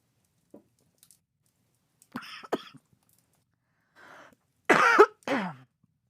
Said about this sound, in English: Choking on my own water.